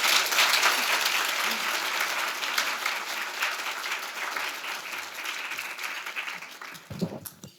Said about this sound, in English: Keep the round of applause going for Jennifer.